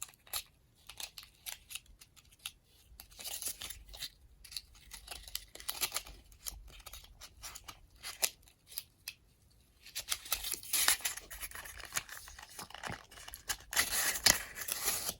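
Scissors snipping through cardboard to trim a homemade cardboard gun attachment, close and crisp, with irregular bursts of cuts separated by short pauses and denser, louder cutting toward the end.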